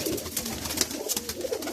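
Around 75 pigeons in a loft in Jhelum coo in low, throaty, overlapping calls, steady and close, forming a continuous murmuring bed of sound.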